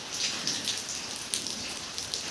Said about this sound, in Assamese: মানে ৰাতিপুৱাৰে পৰা বৰষুণে পৰি থাকে।